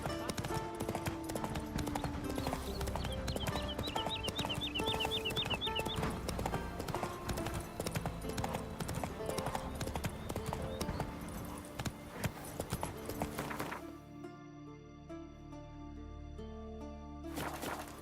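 Horse hooves clip-clop at a steady trotting rhythm in The Witcher 3, clear and up front over background game music and ambience. The sound carries on for most of the span before thinning out near the end.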